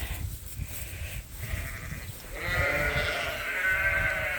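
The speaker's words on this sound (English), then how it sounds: "She's one of the keeper Dorset lambs." Dorset sheep and lambs on a farm bleat in overlapping calls, near to moderately distant, with wavering cries that grow stronger and more sustained halfway through over a low background rumble.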